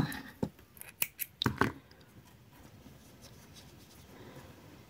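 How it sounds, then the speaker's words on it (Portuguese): Scissors snip crochet yarn to finish a tiny baby sneaker, giving a quick cluster of four or five crisp, close cuts in the first two seconds before a quiet room tone takes over. "Uma corrente apertada e podemos cortar o fio."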